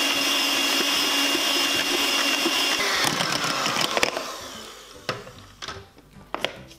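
An electric mixer beats egg whites with a pinch of fine salt in a bowl, giving a loud, steady whirring drone. It then slows and stops, followed by a few scattered clinks and knocks.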